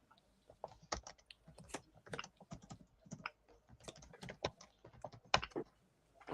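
Someone typing on a computer keyboard nearby, an irregular run of quiet key clicks and taps with brief pauses, no voices.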